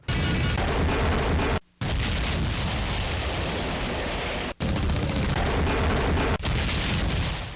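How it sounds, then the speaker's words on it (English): Dense, continuous Sega CD video game gunfire and booming explosions blasting loudly, broken by a couple of abrupt silent cuts. "it cuts to a video clip of your weapon firing, and then it cuts to a clip of whatever you shot blowing the fuck up!"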